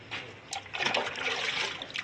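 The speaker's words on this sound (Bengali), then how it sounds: "মা এখন গাছের গোড়াগুলো ফুঁচি দিয়ে এখন গাছের গোড়ায় জল দিচ্ছে।" Water poured from a container onto the base of garden plants, a short close splashing gush that trickles and patters into soil for about two seconds.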